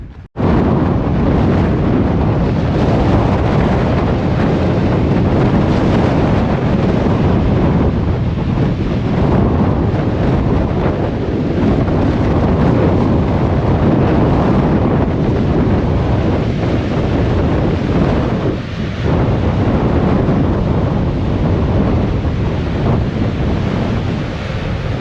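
A strong wind on the Cornwall coast path between Lizard Lighthouse and Kynance Cove buffets the microphone in loud, continuous low roaring gusts, with surf noise mixed in and no talking.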